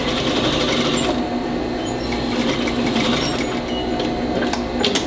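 A sewing machine stitches steadily while boys' pants are altered into shorts, a loud, close, continuous mechanical whir with rapid needle clatter and no pauses.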